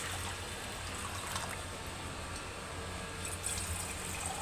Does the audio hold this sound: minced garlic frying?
no